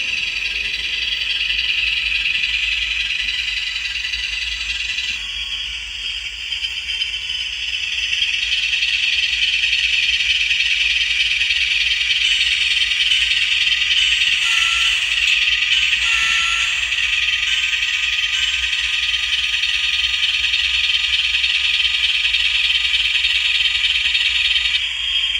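A small engine revving down, a steady loud whirring drone with a strong buzzy tone that holds almost unchanged throughout, with slight wavering midway and no voices.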